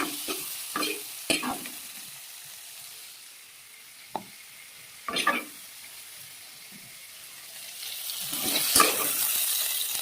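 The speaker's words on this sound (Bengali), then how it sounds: "ভেজে নিলে সোয়াবিনটা বেশি টেস্ট হবে। সেটা ভেজে নিলাম।" Soybean chunks fry in a pan for a vegetarian soybean and potato dish, with scattered scraping stirs over a low sizzle that swells louder and fuller toward the end.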